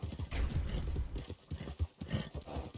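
Horse hooves clip-clop in the Western video game Red Dead Redemption, a quick uneven run of close hoof beats over a few seconds.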